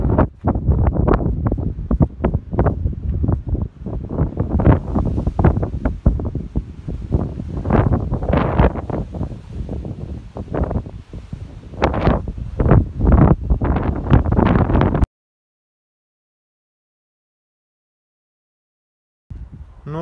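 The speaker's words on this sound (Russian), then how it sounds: "Да, дует здесь нехило." Strong gusts of wind batter the microphone on the roof of the ducal castle at Uzès, loud buffeting roars in rapid irregular bursts for about fifteen seconds before dropping to near silence.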